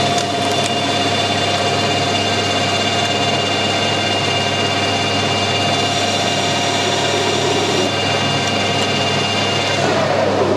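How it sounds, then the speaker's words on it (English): Metal lathe turning a stud to cut a lead for a threading die, a steady loud mechanical drone with a constant whine, running uninterrupted. "Just going to machine a nice little lead on there just to give the die some start on."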